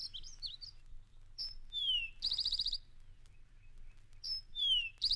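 Eastern towhee song, formerly called rufous-sided towhee, with clear repeated bright whistled phrases and buzzy trills in short bursts, recorded close and loud over faint low background rumble.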